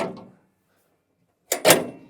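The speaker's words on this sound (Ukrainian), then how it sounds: "Закриваємо капот" The hood of a DTZ 1404 tractor is shut with a sharp metallic double clunk, a brief thud followed closely by a louder slam after a moment of quiet.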